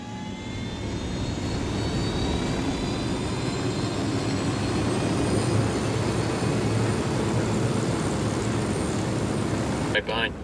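Aircraft engine in the Ghost Recon Wildlands video game, a steady loud jet-like roar that holds throughout, with a brief clatter at the very end.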